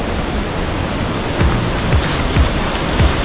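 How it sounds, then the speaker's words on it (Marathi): A small waterfall in Adrai forest gives off a loud, steady rushing wash of falling water that fills the scene on its own, with a few faint thumps now and then. "असं आपल्याला नॉर्मली छोटा असा आपल्याला वॉटरफॉल लागला बघा."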